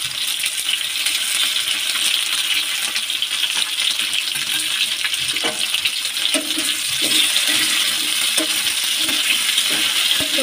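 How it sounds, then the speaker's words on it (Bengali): Chopped vegetables and a small potato fry in a pan with a steady, bright sizzle, plus scattered soft clinks and scrapes of stirring throughout. "তো এগুলোকে ভেজে নিতে হবে"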